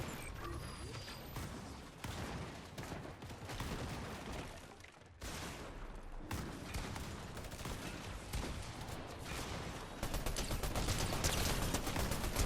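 A minigun in the game Fortnite fires a dense, continuous stream of rapid gunshots. The barrage is loud and steady with one brief gap, and it grows even heavier toward the end.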